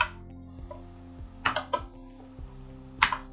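Keystrokes on a computer keyboard while typing code, a few scattered sharp clicks and a quick burst of taps, close and fairly quiet over a low steady hum.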